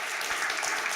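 Brief burst of audience clapping at a talk on tenant organizing and eviction rights, dense and steady for about a second.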